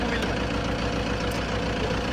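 Tractor engine held steady at about 1500-1600 RPM in two-wheel drive, a continuous low, even drone with a faint rumbling throb, close and alone.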